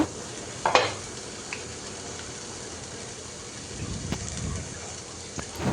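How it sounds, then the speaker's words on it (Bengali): Chopped onion and green chilli fry in an electric rice cooker, a steady soft sizzle running throughout, with a louder clatter near the start and a few light scrapes and knocks toward the end. "প্রথমে পেঁয়াজ কুচি আর কাঁচামরিচ কুচি দিয়ে দিলাম।"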